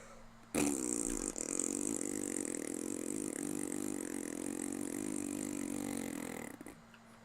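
A person imitates a fart with the mouth, producing a long, loud, sustained buzzing raspberry lasting several seconds, close to the microphone and alone.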